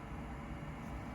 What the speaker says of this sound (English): She doesn't like the sound of the fan.